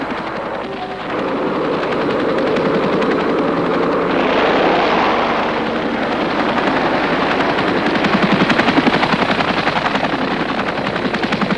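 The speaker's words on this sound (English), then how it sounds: "Hueys are made by Bell Helicopter Textron" Bell UH-1 Huey helicopter in flight, a steady loud rotor and turbine roar with rhythmic blade chop that swells slightly midway and holds throughout, with no voices.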